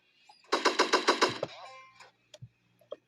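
A burst of about seven rapid assault rifle shots rings out loud and close in a Roblox Fortnite-style video game, followed by a few scattered, softer game effects.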